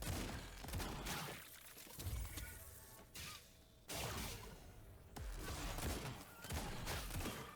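Rapid bursts of shotgun gunfire from the video game Autogun Heroes, loud and dense with short gaps between volleys, mixed with crashing impact effects and no talking.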